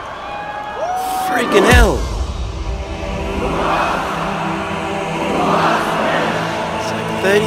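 A huge stadium crowd of tens of thousands at a Rammstein live show in Paris roars and cheers in a steady, swelling wash. A nearby voice talks loudly over it.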